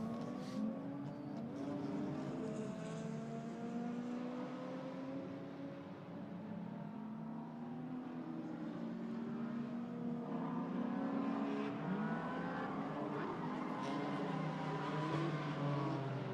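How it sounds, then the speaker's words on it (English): GT4 race cars accelerating at Hockenheim during a GT4 European Series race restart, with engine notes rising and sweeping steadily across the whole stretch, several cars layered together, continuous and fairly loud, with no talk. "And Gabriele Piana there now starts to accelerate to close onto the back of Papadopoulos"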